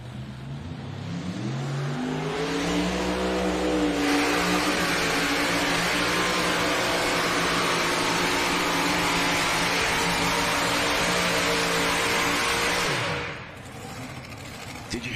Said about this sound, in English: Did you hear that tractor work?